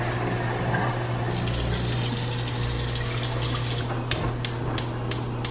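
Water trickling into a pan with sugar for a sugar syrup, a steady close pour over a low hum, ending with a few sharp clinks.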